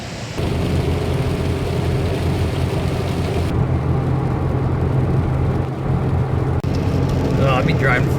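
An old Chevrolet Nova on the road, its engine and road noise forming a loud, steady rumble throughout with no break, heard from inside the car while someone talks over it.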